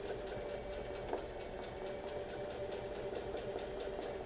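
Sewing machine running steadily through free-motion straight-stitch outlining for an Art Nouveau flower embroidery, a continuous fast mechanical whir with fine rapid needle ticks, close and even with no pauses or talk.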